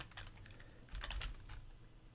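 Someone types a username on a computer keyboard in a quiet room, a short run of light, close key clicks with a brief cluster of faster taps in the middle.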